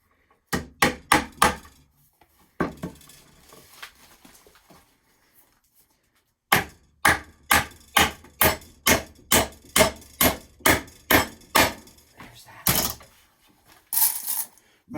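Nails hammered into a wooden saw horse in a wood shop: a quick run of loud, sharp blows, then scattered quieter taps and a pause, then a long steady series of hard, evenly spaced strikes close by.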